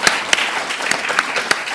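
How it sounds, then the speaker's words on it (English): An audience at an LSE public lecture claps before the Q&A: a thin, scattered round of applause with a few sharper individual claps standing out, fairly close and steady. "we can clap."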